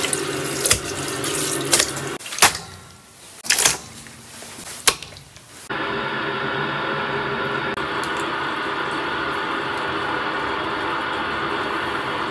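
Tap water runs into a sink over lamb offal, first in uneven splashy bursts with dips, then settling into a steady, close, continuous rush that holds to the end.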